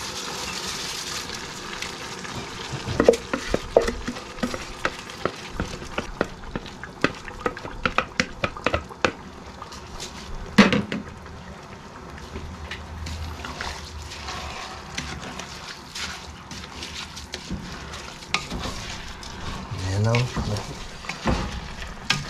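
Rice and glutinous rice are stirred into sautéed aromatics in a pot for chicken arroz caldo, giving scattered scrapes, clicks and a soft sizzle throughout, with a person talking over it.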